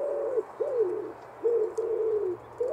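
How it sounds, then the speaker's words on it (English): A pigeon coos in a tree, several soft, gentle rolling coos at an even pace with short pauses between them, heard alone and fairly close. "It was not a boo, but a gentle coo. Oh, hello, pigeon."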